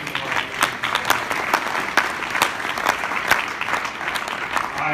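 Audience applause at an off-road Hall of Fame induction, a steady dense patter of many hands clapping at moderate distance with no one speaking over it.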